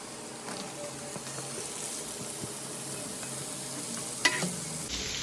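Onions and garlic sauté in a pan for a Kerala-style chicken roast, with a steady, moderate sizzle throughout and a single sharp click near the end.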